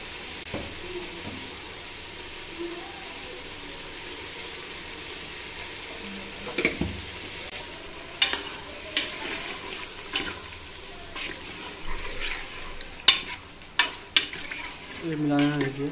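Chicken khorma being stirred in a pan with ginger, garlic and turmeric: a soft sizzle and frying hiss under intermittent scraping and clanking of a spoon against the pan, the stirring growing busier in the second half.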